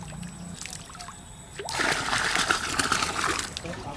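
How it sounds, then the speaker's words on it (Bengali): Small fish tipped into a village pond, a burst of splashing and sloshing water that starts abruptly and continues steadily, fairly close, with faint voices in the background. "এগুলো সব ফেলে দেবো পুকুরে"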